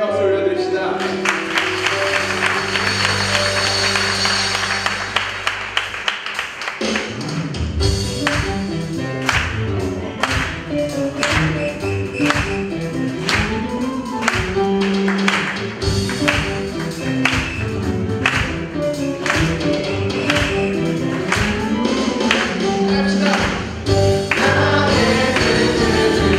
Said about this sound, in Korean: 우리 시간 우리의 찬양을 받으신 주님께 감사와 찬양 박수 올려드립시다